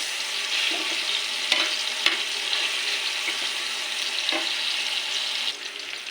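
Tomatoes fry in a hot pan with a steady, dense sizzle that runs without a break, close and fairly loud, with a few soft stirring knocks and clinks of a utensil against the pan.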